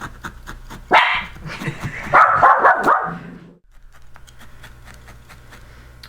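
A dog barks in a short burst of loud, close yips and barks, apparently at a passing truck, before falling silent over a faint background hum.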